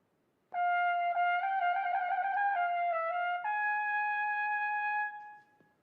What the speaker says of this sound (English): So the opening trill could sound something like this.